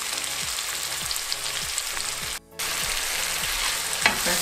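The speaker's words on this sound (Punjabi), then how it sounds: "ਟਮਾਟਰ ਵੀ ਭੁੱਜ ਗਏ ਨੇ" Tomatoes frying in a pan for namkeen rice, a loud continuous sizzle with regular rhythmic stirring scrapes and one brief dropout partway through, with no voices.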